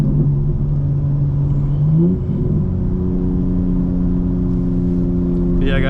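A BMW M4 Competition G82 accelerating, its engine note rising steadily in pitch with a brief dip as it shifts gear, loud and droning from inside the car.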